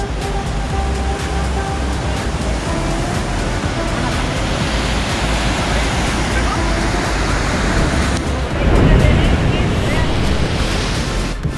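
Sea waves at the Blue Lagoon on Lembongan Island, Bali, a steady broadband wash of surf with wind buffeting the microphone, swelling louder near the end.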